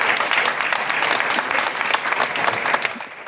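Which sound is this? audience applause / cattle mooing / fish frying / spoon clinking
audience applause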